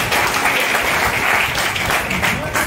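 Students at a government polytechnic lecture in Nagpur applaud together, a dense, steady clapping that fills the room for a few seconds with a faint voice underneath.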